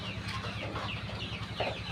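Chickens cluck steadily inside a farm house, several birds close by, over a constant low hum with no one speaking.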